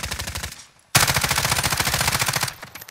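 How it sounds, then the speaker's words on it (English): Rapid automatic gunfire in Call of Duty: Modern Warfare, two loud close bursts of evenly spaced shots separated by a short pause, the second burst long and sustained. "They're shooting at me!"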